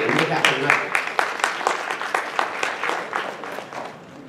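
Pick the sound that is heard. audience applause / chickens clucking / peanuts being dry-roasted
audience applause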